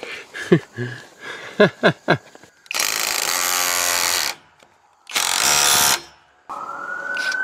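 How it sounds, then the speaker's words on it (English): Two long, loud bursts of a buzzing handheld auto hammer, separated by a pause, with clatter and knocks before and a rising whine at the end, during a mountain cabin build. "Let us show you this new tool. It's a auto hammer."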